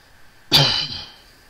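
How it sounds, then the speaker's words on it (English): One short, sharp cough, close and fairly loud, fading quickly into a quiet room. "Damn coughing."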